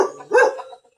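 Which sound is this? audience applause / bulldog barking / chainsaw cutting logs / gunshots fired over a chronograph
bulldog barking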